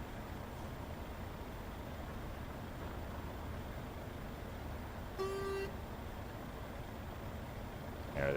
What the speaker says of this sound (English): Are they just honking because they want to honk?